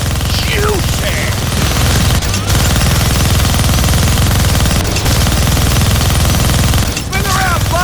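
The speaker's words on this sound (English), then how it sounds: "Gonna need both hands to shoot that minigun." Minigun fired from a helicopter in the Deadpool video game, a loud continuous buzzing roar of rapid fire running almost unbroken, with brief gaps and a voice talking over it.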